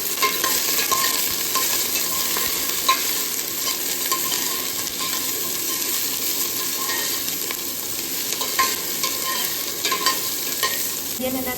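Onion sautéing in hot oil gives a steady, close, fairly loud sizzling hiss with scattered small pops and crackles throughout, no voices.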